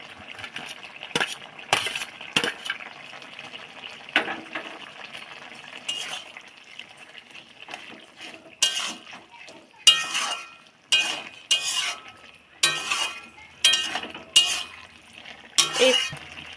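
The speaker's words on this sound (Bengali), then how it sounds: "জল দেবো, দিয়ে এই যে কাঁকড়াগুলো ভেজে রেখেছিলাম এগুলো দিয়ে দেবো।" Water and fried crabs going into a pan of cooking greens, a series of clinks and scraping stirs with sizzling in between, recurring bursts at close range.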